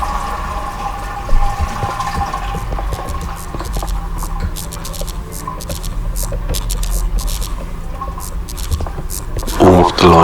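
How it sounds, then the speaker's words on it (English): A household toilet flushes with a continuous rushing, gurgling wash of water that runs for about ten seconds, with a voice talking over it. "I flushed the toilet."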